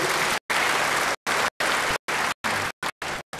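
Congregation applauding together in a church service, a steady burst of clapping broken into several short rounds with brief silent gaps between them.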